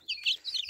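Hens, Aseel chickens, give a short pair of high chirping clucks close by, two quick bursts in under a second against a quiet background.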